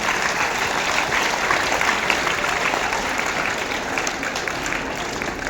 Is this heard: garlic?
no